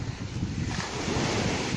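Strong sea waves wash steadily onto a sandy spit on the Bakalskaya Spit under a north wind, a continuous broadband roar of surf with wind buffeting the microphone throughout, no voices.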